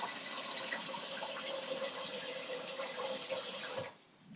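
Steady rushing of plain water poured continuously into a bag for about four seconds, then cutting off abruptly; close and fairly loud, no voices.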